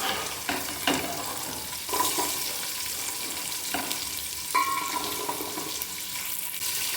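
Carrots and beans frying in a pan over high flame, a steady loud sizzle with occasional stirring scrapes and clinks throughout.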